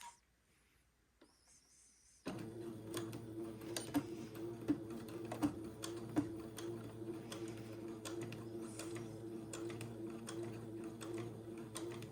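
Sewing machine stitching quarter-inch seams across the ends of a crotch tab on a baby garment, starting after a quiet pause and then running steadily with a fast mechanical rhythm and occasional clicks, close by, no talking.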